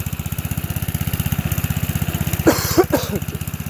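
A 1978 Toyota BJ40 diesel Land Cruiser idles with a steady, rapid low knocking chug that runs throughout, while brief voices break in near the end.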